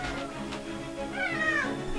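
A house cat gives a drawn-out meow, close and clear, rising and bending in pitch over a quiet indoor background.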